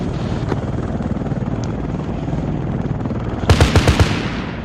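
Aircraft guns fire in Arma 3 during a military simulation sortie near Shaki: a short burst of four or five sharp, punchy reports near the end, rising over a steady rotor-like engine drone.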